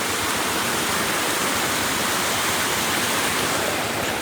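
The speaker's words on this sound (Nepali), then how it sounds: "यहाँ पनि झर्नाहरू अब देखिनु थाल्यो बल्ल" A waterfall roars steadily, a dense, constant rush of falling water with no pauses or other sounds.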